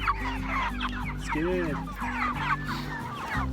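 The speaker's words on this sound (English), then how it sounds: "They look like hungry meat chickens." A flock of hungry Cornish Cross broiler meat chickens clucks steadily and busily at close range, with overlapping calls throughout and a brief human voice speaking over them.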